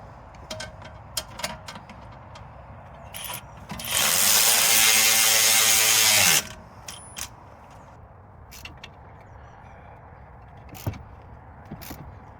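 A ratchet with an 18mm socket spins in one quick, loud clicking burst of a couple of seconds on a Skoda Octavia Mk3 shock absorber bolt, with scattered small metallic clinks and handling noises around it.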